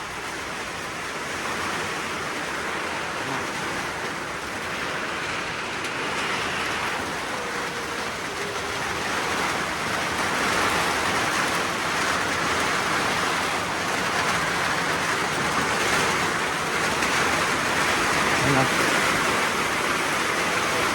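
Heavy rain pours steadily with a broad, rushing roar and gusting wind, continuous and enveloping throughout.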